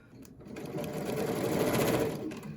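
A sewing machine stitches a blouse ruffle, its steady motor whir swelling to a dense, continuous hum for most of the stretch before easing slightly at the end.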